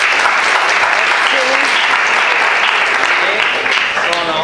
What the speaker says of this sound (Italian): vi prego di accogliere la professoressa Reulens con un breve applauso